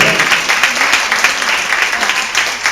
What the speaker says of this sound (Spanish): Por dar el aplauso a Dios que restaura todas las cosas como al principio